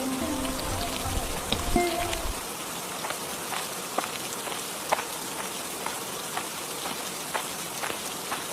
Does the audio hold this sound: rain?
yes